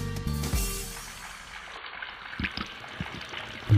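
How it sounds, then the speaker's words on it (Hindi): Water runs from a household tap in a radio skit, a soft pouring trickle at first that thins into faint intermittent drips and splashes, fairly quiet and close. "नल से पानी टपक रहा है भाई"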